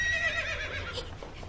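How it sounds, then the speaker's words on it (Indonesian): A horse whinnies in a drawn-out, wavering call, fairly close and clear over a low rumbling background, with no talking during it. "itu suara kuda-kuda aku."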